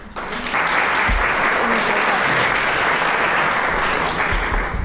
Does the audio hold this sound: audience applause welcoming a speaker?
yes